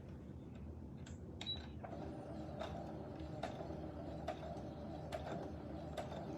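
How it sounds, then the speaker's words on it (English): A sewing machine stitches fabric for a face mask, stitching an inch then back stitching, giving a faint low mechanical hum with regular light clicks roughly every second, close and quiet. "you're just gonna stitch an inch and then back stitch."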